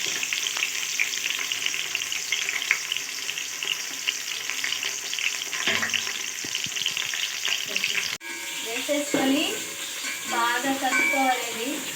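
Onions and green chillies sizzle and crackle steadily in a hot pan with mustard seeds, with occasional stirring scrapes and a voice talking over the frying in the later part.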